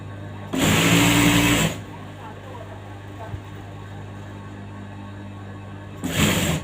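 An electric sewing machine stitching the folded side slit of a fabric top, two fast bursts of whirring stitching, one about a second long and a shorter one at the end, separated by a quieter gap.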